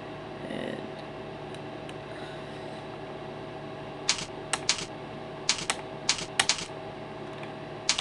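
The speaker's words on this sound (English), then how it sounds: "Once you have the victim's IP address, you need to type it in." Someone types an IP address on a computer keyboard: a few scattered quick keystroke clusters in the second half, close and crisp over a steady room hum, with no talking.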